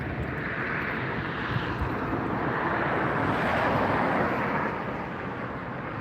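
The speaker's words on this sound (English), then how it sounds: "this is the Cathay Pacific 777 coming in from Hong Kong" Cathay Pacific Boeing 777 arriving at LAX from Hong Kong, a broad steady jet roar swelling slightly and then easing, loud and fairly close with some wind noise.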